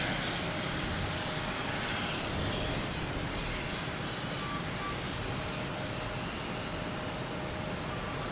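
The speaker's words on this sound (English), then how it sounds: "Oh, we have Alaskan Airlines rolling." An Alaska Airlines jet starts its takeoff roll at Boston Logan on a Friday night, heard as a faint, distant, steady engine rumble and hiss running unbroken with no voices.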